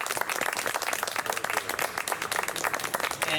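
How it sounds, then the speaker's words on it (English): An outdoor borough crowd claps for Congressman Pallone at a pedestrian-safety funding event, a moderate burst of many hands clapping, fairly close and continuous. "we just want to give Congressman Pallone a round of applause"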